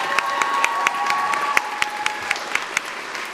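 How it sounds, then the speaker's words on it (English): Audience applause with some cheering at a Día de la Charra celebration at the National Cowgirl Museum, a steady dense clatter of many hands with sharp individual claps standing out, close and lively, with a faint whistle-like tone. "Round of applause for her."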